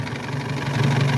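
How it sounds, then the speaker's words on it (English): A vintage Alvis 12/50 inline four-cylinder overhead-cam engine idles close by, a steady, loud, low, even rumble with no voices over the short stretch. "let's have a closer look at the engine whilst it's running"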